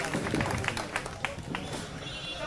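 Clapping from an audience of Delhi auto-rickshaw drivers welcoming Arvind Kejriwal at a gathering, a dense patter of claps with scattered louder hits, steady and fairly close, lasting a couple of seconds.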